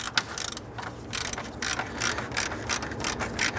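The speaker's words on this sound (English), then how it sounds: "I'm going to use my 1/4-inch ratchet in my 8mm socket, and we'll go ahead and loosen and remove that bolt." A 1/4-inch ratchet with an 8mm socket loosens a bolt on a 1994-2004 Ford Mustang, a close, rapid series of clicking pawl strokes repeating across the whole stretch.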